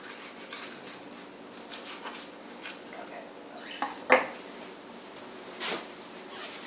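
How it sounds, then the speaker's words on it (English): A kitchen knife slices down the side of a red pepper and cuts out the ribs on a board, quiet scraping with a few sharp clicks and knocks of the blade. "Cut it down the side and cut the ribs out."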